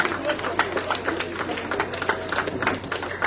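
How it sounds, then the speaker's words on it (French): An audience at a school centenary celebration claps for the dancers with dense, steady applause, a crowd of close and distant hands patting continuously through the moment. "Nous les applaudissons chaudement."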